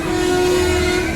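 A colourful train starting to move, a steady loud horn-like tone with rumbling underneath, sustained and close for a brief moment, no talking.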